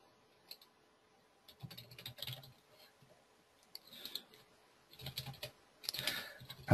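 Quiet bursts of typing on a computer keyboard as a username and password are entered, with irregular clusters of key clicks separated by short pauses.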